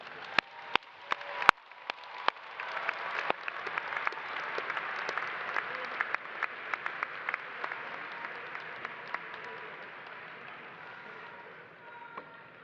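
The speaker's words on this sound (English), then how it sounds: "Let's have a big round of applause for all of our graduates" Applause from a crowd at a university commencement ceremony, starting with a few sharp individual claps, swelling into sustained clapping in a large, reverberant hall, then gradually thinning out.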